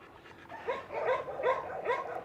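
Two rescued desert dogs, Gus and Rona, give a run of four short, whiny yelping barks close by, each a strained yip that rises and falls, with soft whimpering between and no talk.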